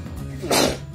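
A child sneezes once, a short sharp burst up close, over the low background of a home kitchen while pizza is being made.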